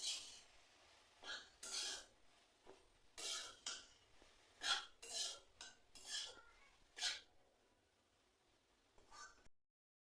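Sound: frying and stirring in a pan while making chicken momo

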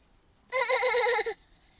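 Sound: child imitating goat bleat

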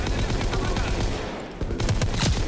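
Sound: gunfire from a weapon in the video game Call of Duty WW2

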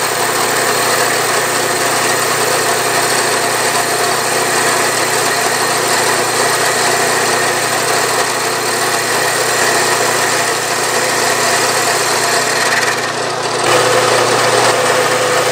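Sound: metal lathe taking a 10 thousandths cut

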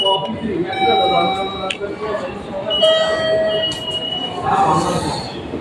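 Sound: train arriving at Kinshicho station, Japan

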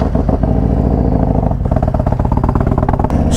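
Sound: Harley-Davidson Low Rider ST motorcycle engine riding slowly

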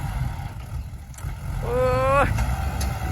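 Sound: Kubota L5018 tractor engine

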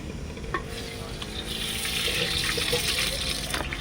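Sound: oil sizzling while tempering spices

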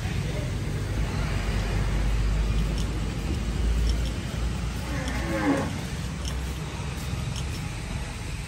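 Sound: cattle mooing while a bull is unloaded

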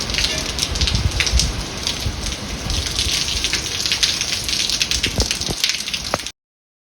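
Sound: heavy rain and wind

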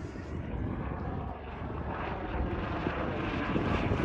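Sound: helicopter flying over

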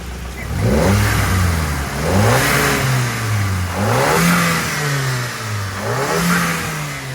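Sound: VW Golf GTI engine revving

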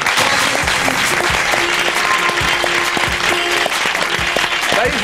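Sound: studio audience applause

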